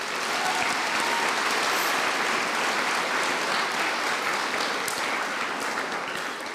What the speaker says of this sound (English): let us give a final round of applause for our Senior Student Council members